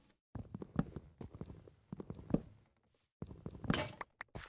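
Blocks being broken in Minecraft, a series of short crunching, clacking hits in quick irregular bursts, ending with a brighter shattering crack, heard alone at fairly low volume.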